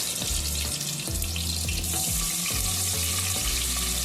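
Curry leaves and onion drop into hot oil already popping with mustard and cumin seeds, setting off a series of sharp crackling bursts and steady sizzling close up, with no talking.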